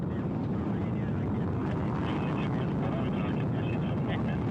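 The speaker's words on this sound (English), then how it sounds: "Engines are at maximum thrust, booster ignition at full throttle, and we have liftoff of Pettit, Ovchinin, and Wagner" Rocket engines at liftoff during a crewed launch to the ISS from Kazakhstan, a steady broad rumbling roar heard from a distance, with a voice talking over it.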